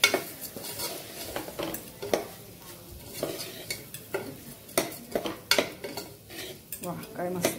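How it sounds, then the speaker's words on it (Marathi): Daliya khichdi is sautéed in a pan with a metal spoon, giving repeated close scraping and clattering strokes over a soft sizzle, loud and uneven in rhythm. "मस्त परतून घेऊ."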